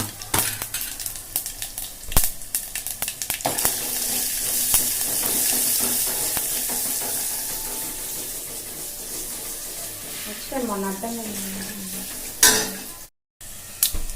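Mustard seeds, urad dal, cumin and turmeric fry in hot oil for a tempering, a loud close sizzle with popping crackles that settles into a steady hiss, with a brief word spoken over it.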